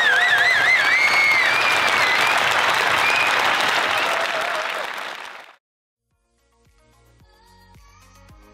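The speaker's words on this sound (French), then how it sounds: "Une salve d'applaudissements pour tous les bénévoles." Volunteers at the Grand Raid des Pyrénées mountain trail race receive a dense, sustained round of applause from a crowd, steady for about five seconds before cutting off abruptly, followed by faint quiet background sounds.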